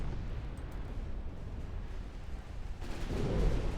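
Torpedo hits striking enemy warships in the naval battle game Ultimate Admiral Dreadnoughts: a steady low rumble of battle noise swells into a heavier, louder booming impact near the end, with no talk.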